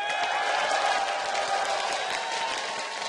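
A large esports crowd at a League of Legends match cheers and applauds for Counter Logic Gaming Europe, a dense, sustained roar of clapping and shouting that holds steady throughout.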